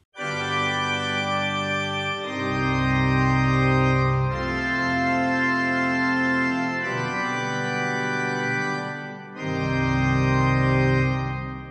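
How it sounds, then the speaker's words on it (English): Pipe organ plenum of the Konzerthaus organ sampled in the Viennese Konzerthaus, rich sustained full-registration chords changing several times, loud and close with a long hall reverb tail. "The Konzerthaus organ is a totally different beast as it's been recorded in the Viennese Konzerthaus."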